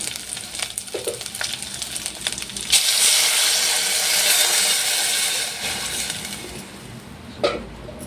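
Boiling, bubbling haleem mixture after a glass of water is poured into the frying pot, a loud sustained hiss and sizzle swelling in the middle with small clinks, no voices.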